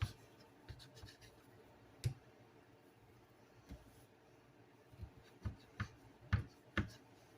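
Knife cutting burrito ingredients in half on a cutting board with a dull knife, giving scattered soft thuds and scrapes, with a cluster of sharper chops toward the end, fairly quiet.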